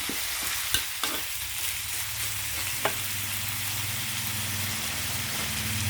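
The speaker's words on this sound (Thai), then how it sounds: "รวนไก่ก่อน" Steady sizzling of chicken stir-frying in a pan with curry paste, with a few scraping clinks of a utensil stirring early on.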